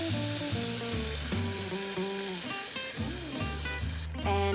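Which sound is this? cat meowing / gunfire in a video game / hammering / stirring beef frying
stirring beef frying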